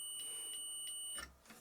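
A steady, thin electronic tone from a tester sounds during a probe of a Hitachi/Vestel 32-inch 17IPS19-5 TV power board. It is faint and continuous for about a second, then stops as a soft knock follows.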